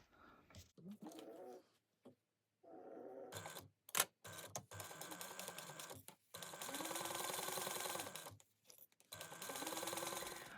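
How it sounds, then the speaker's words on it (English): A sewing machine stitches a seam with a 3/8 inch allowance on a fold-over project, in several runs of fast steady humming separated by pauses, close and clear. "we're going to sew this at a 3/8 inch seam allowance."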